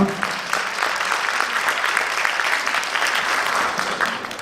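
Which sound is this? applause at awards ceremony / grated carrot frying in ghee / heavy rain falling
applause at awards ceremony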